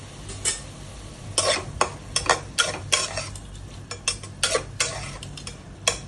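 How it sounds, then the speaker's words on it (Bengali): A spatula stirs Kashmiri chili powder and coriander powder in a cooking pan for a fish-head and bottle gourd dish, giving a run of close, uneven metallic clinks and scrapes at a steady working pace, with no talking. "আমি একটু নাড়িয়ে চাড়িয়ে দিচ্ছি"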